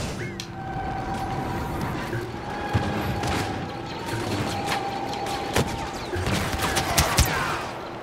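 Sniper rifle fire in Star Wars Battlefront, a string of sharp blaster-like shots at irregular intervals over a busy battlefield bed of distant gunfire and mechanical whine, loud and close to the listener.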